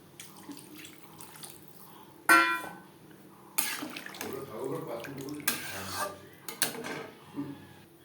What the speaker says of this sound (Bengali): আমি আমার পরিমাণ মতো জল অ্যাড করলাম